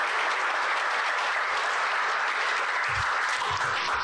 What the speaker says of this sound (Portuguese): Gostaria que recebêssemos com uma salva de palmas.